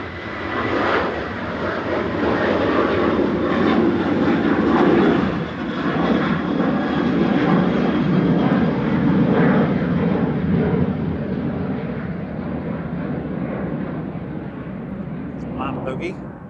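A fixed-wing airplane at Manchester Airport gives off a broad, steady engine roar that stays loud for most of the stretch, then fades a little toward the end.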